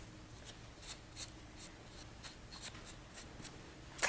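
Wax being rubbed onto a painted napkin ring: soft, rhythmic scrubbing strokes about twice a second, close and quiet against a faint low hum.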